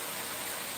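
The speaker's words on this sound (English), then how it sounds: "rain has finally come" Rain falls steadily in a Philippine province, a soft, even hiss that fills the whole moment with no break and no talking.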